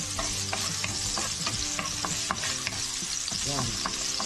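Ginger frying in a hot pan, crackling sizzle steady and close, with repeated scraping strokes of a utensil stirring the pieces; no talk over it.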